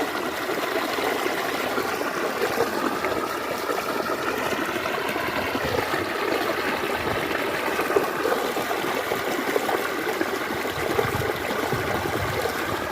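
Irrigation water gushes steadily from a pipe into a tobacco field, a continuous rushing, splashing flow heard up close at an even level throughout, with no voices.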